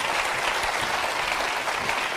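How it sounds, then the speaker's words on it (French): A studio audience at a French TV quiz show applauds steadily, a dense, even wash of clapping that fills the whole stretch with no voices over it. "Le public vous applaudit."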